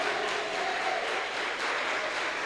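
Church congregation applauding together, a dense, even wash of clapping hands that is fairly faint and distant, sustained throughout.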